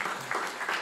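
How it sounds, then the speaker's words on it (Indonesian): A church congregation applauds in a short burst of clapping, a dense, hissy wash of many hands that swells in brief waves and stays moderately loud without anyone speaking over it. "Kita beri tepuk tangan yang meriah bagi Tuhan"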